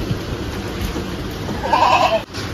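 A 58-kilo male goat at a livestock sale bleats in one drawn-out, wavering call that rises near the end, heard close over a steady background hum.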